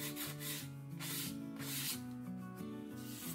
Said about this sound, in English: sometimes it helps if you take and you roll your sanding paper a little bit